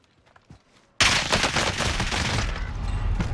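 Sustained burst of short-barrel PPSH submachine gun fire in Warzone 2, loud and rapid, after a quiet second of game ambience, with no talking.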